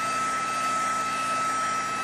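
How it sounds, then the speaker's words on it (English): A heat gun blows a steady, loud, even whoosh of air over Mod Podge resin to pop surface bubbles, a continuous close roar with no pauses and no talking. "And you don't ever want to hold your heat gun or your torch"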